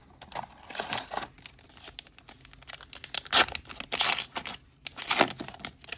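Star Wars Unlimited Spark of Rebellion booster packs being torn open, close-up foil crinkling and ripping in irregular bursts, with quieter rustling between and no talking.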